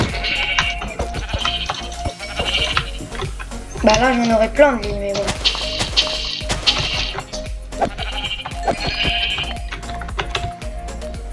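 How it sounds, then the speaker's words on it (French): Several sheep bleat repeatedly in Minecraft, wavering cries recurring over steady background sounds while a person talks over them. "Je prends vraiment beaucoup de moutons."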